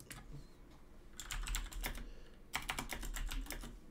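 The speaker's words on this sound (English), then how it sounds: "we can just type in fuel CMS" Quick, light keystrokes come from a computer keyboard, typed in two short bursts close to the mic over a faint background hum.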